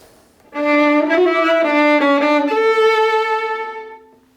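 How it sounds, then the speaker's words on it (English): A bowed string instrument opens with a mordent, a quick rapid alternation on the first note, then moves through a slow turn and holds a final sustained tone, in Piazzolla's Le Grand Tango. "Sometimes a performer will add a mordent to the first note, which sounds like this."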